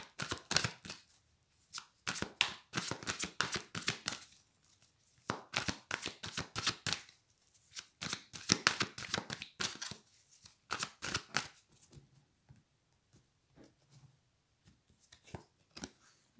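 A deck of cards is shuffled for a tarot-style reading, many rapid riffling bursts and soft flicks repeating in close, quiet, irregular runs.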